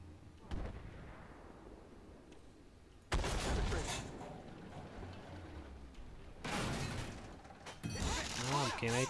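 Tank cannon fire from a T-90MS in the video game Armored Warfare, heavy booming shots spaced a few seconds apart, loud and close, followed by rumbling and mechanical clatter, with someone talking in between.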